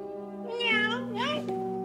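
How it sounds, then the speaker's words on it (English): A cat meows twice in quick succession, the cries loud and close over a steady tonal background hum. "Is this really Smurf Cat?"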